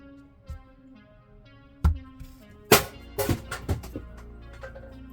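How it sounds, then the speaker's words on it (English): A hard thud of a mallet hitting the floor followed by a cluster of rattling knocks and clatter, over faint background hum. "That's the sound of a mallet hitting the floor."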